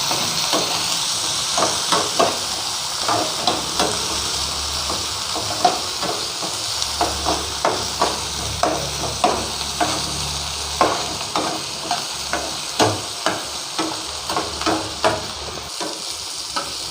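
Chopped tomatoes for a potato and peas kurma sizzle steadily in a hot pan, with a spoon scraping and stirring in a regular rhythm of soft clacks over the constant frying hiss.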